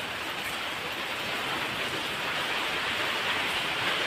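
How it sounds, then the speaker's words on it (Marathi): Heavy rain pours down outside a Ganesh idol workshop, a loud, unbroken roaring hiss of falling water with no talk over it. "आता परत पाऊस बघा बाहेर जोरदार चालू झालेला आहे"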